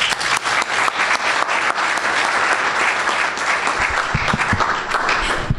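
An audience at a talk about Joe, the slave who became an Alamo legend, gives sustained applause to welcome a speaker, with dense steady clapping filling the room for several seconds at close range.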